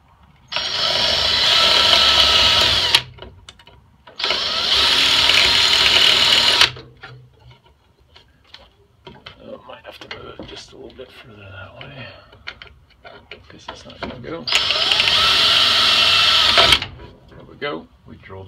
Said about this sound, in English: what we're going to do is just drill the swaged over part of the rivet off.